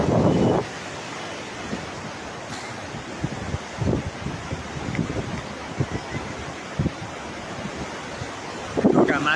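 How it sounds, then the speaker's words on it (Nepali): Water rushes through a partly opened gate at the Koshi barrage on the Nepal–India border, a steady distant roar with wind gusting across the microphone. "यो ढोका बन्द छ तलबाट अलिकति खोलिएको छ र पानी गएको छ"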